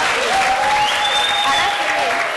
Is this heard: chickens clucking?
no